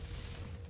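Mechanical clicks and clatter of a weapon reloading in the video game Warframe, close and steady over a dense, rumbling bed of game noise, with no voices.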